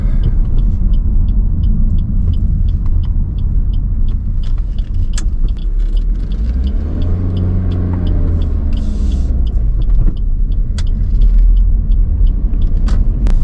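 Car driving on a road near Heathrow, a steady close engine and road rumble with a vehicle passing midway and regular faint ticking, no voices.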